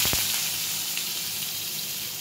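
Ridge gourd, potato and pumpkin drop into hot oil tempered with black cumin, giving a steady, close frying sizzle with a brief burst at the start and no talk.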